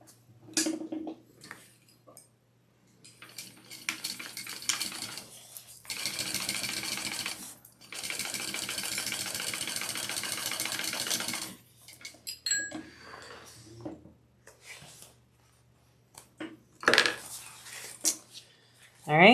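A sewing machine stitches a shoulder bag in two steady runs of rapid, even needle chatter, each a few seconds long, with quieter handling clicks and rustles between them and at the ends.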